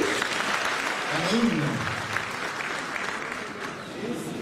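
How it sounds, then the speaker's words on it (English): Steady applause from a crowd at a Maurice Kamto political meeting in Washington DC, dense clapping filling the whole stretch with a low murmur of voices underneath. "Michelle Kingen, please give her a hand of applause"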